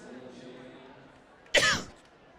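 A man coughs once, loud and close, on an unmuted microphone during a girls' basketball broadcast, after a quieter stretch of background sound.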